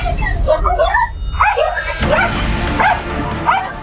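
A dog yips, whimpers and barks in rapid bursts, loud and close, mixed with other dog noise in a scuffle; voices are heard in the background.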